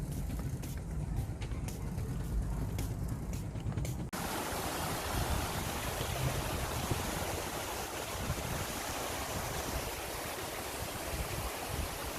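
A valley stream rushes in a steady, broad hiss of flowing water. The sound becomes noticeably louder and fuller after a few seconds of quieter clicking and handling noise.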